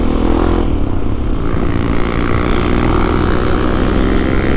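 A motorcycle ridden at full throttle gives off a loud, continuous engine roar mixed with rushing wind, holding steady from start to finish with no talking.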